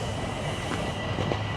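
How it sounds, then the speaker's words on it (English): A train rumbles through a slow zone in midtown Toronto, a steady heavy rolling noise with faint rattling, continuous and fairly distant. "There goes a train rocking through the slow zone."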